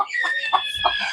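Hens on a regenerative farm cluck in a short close burst of several rhythmic calls, with a brief higher-pitched chicken call running over them and no talk.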